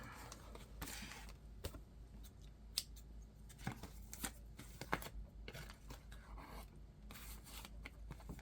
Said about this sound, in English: we are going to cut off those threads.